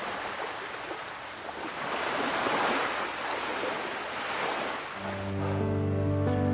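Ocean waves wash onto a sandy beach in a steady, loud roar of surf, with swells rising and falling and a faint tonal hum entering near the end.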